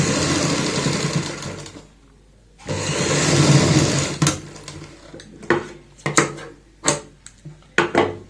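A sewing machine stitches a frill onto a child's frock, running in a long steady burst, pausing, then sounding again in short bursts separated by brief gaps, close and clear with no talk.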